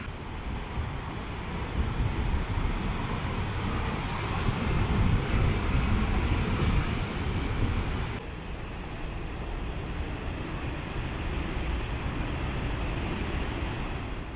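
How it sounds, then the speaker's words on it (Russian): Huge waves, about three metres high, crash against the rocky shore at Rabat, Morocco, as a continuous heavy roar of surf mixed with strong wind buffeting the microphone. "Огромные волны, наверное, 3 метра, которые разбиваются здесь от берега скалы."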